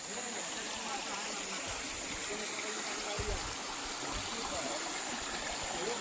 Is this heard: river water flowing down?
yes